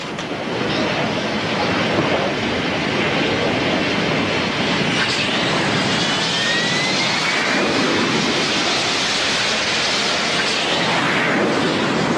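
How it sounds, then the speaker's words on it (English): Military fighter jets launching from American aircraft carriers at sea make a loud, steady, unbroken roar that carries on throughout with no break and no voices. "Aboard the 3 American aircraft carriers in the area, 144 fighter jets take to the air."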